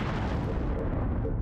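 A sensor post explodes in Star Trek Bridge Commander as a steady, loud, low rumbling blast that holds evenly for over a second, with no voices.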